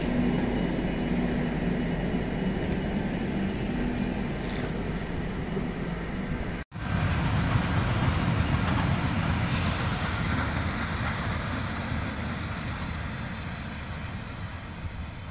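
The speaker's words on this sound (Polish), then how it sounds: "I odjazd Intercity Matejko oraz Intercity Śląza." Intercity Matejko and Intercity Śląza passenger trains depart at Tarnów station with an EU07 electric locomotive, wheels squealing loudly over a steady rumble of railcars, a brief cut midway, then continued rolling noise with high screeches.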